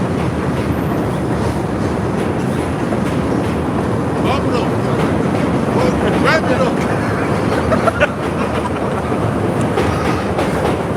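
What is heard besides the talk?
passing train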